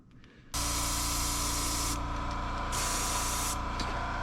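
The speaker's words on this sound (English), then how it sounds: "let me get this airbrush cleaned out" An airbrush being cleaned out sprays a steady, loud hiss that starts abruptly after a brief quiet moment and holds continuously, with slight surges in the upper range.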